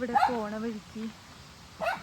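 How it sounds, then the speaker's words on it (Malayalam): A puppy yaps a few times in the background at a house near Orappan Kettu waterfall in Thrissur, India, while a person talks over it, the barks fairly faint and brief. "ബാക്ക്ഗ്രൗണ്ടിൽ ഒരു വീട്ടിലത്തെ പട്ടിക്കുട്ടി കുരയ്ക്കുന്നത് കേൾക്കാം."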